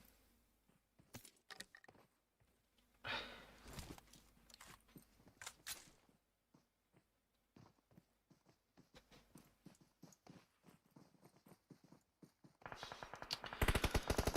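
Gunfire in a competitive video game scrim: scattered sharp shots spaced out, some distant and faint, ending in a louder dense burst, with no talk.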